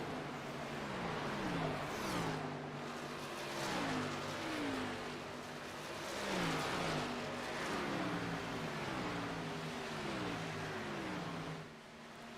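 Race cars lapping Texas Motor Speedway in a sim racing game, several engines droning and rising and falling in pitch together, a continuous loud pack of motors with no talk.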